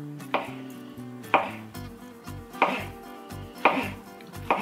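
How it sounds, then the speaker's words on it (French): A knife cutting a banana into pieces on a board, five sharp evenly spaced chops about a second apart, close and crisp with no talking. "Donc vous prenez votre banane et vous venez couper des morceaux."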